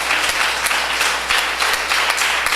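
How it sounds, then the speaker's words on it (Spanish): During a Spanish-language church service, a congregation applauds strongly, a continuous, loud roar of many clapping hands with a few sharper claps standing out, with no speech over it. "Denle un aplauso fuerte al Señor con todo su corazón."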